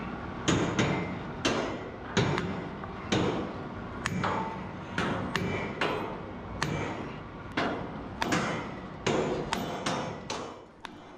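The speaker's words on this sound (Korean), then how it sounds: "그 다음 작업은 홈에 핀을 넣어 고정하는 망치질" Hammer strikes driving steel pins into the grooves of a tower crane mast high on a construction site, a steady series of sharp metallic clanks with ringing tails, roughly one every half second to second, fairly close and clear.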